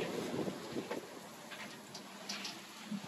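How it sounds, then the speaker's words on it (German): Strong Mistral wind of about 30 knots buffets a sailing yacht off the Balearics, with broadband gusty roar and spray-like hiss throughout, steady and close, no talk. "Ja, bei dem Wind."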